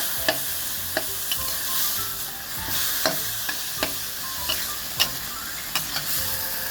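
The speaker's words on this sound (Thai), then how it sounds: "ผัดให้ หอมก่อนเลยนะครับ ใส่ใส่หมูเลยนะครับ ใส่หมูสับ ที่เราเตรียมไว้" Minced pork with bird's eye chilies and red chilies stir-fried in a hot pan, a steady sizzle running throughout with sharp, regular clicks of the spatula scraping and tossing, close and moderately loud, no talking.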